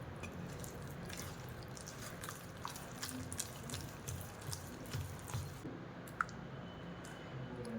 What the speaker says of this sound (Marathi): त्यातील पाणी आपण थोडे थोडे घालणार आहोत